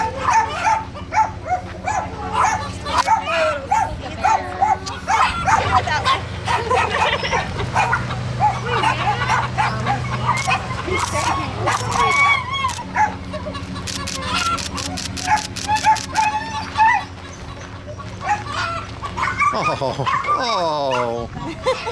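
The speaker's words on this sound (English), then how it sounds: "Hey, puppies." Rescue puppies yip, whimper and bark in busy overlapping bursts, near and fairly loud, while a person talks softly over them.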